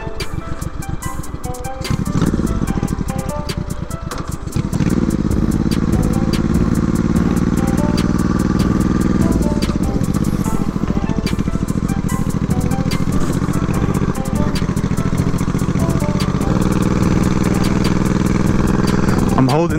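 A 1987 Honda Shadow VT700 motorcycle engine runs loud and close, bogging and starving for gas, with a ragged, uneven pulsing that surges and sags throughout.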